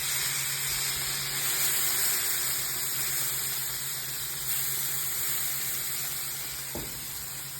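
Steady loud sizzling and hissing as water is sprayed onto a hot griddle during seasoning, with a short clank near the end.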